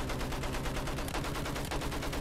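Rapid, evenly spaced gunshots from Battlefield 1 gameplay, a fast burst of automatic fire that continues steadily throughout, moderately quiet.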